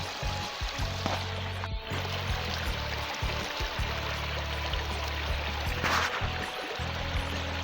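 Fast-flowing water of a river rushing in a steady, dense roar, close and constant, with a few brief knocks and shifts along the way.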